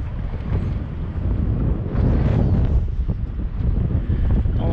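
Strong wind buffets the microphone on a bass fishing boat in early spring, a loud continuous low rumble with gusting swells and no voices.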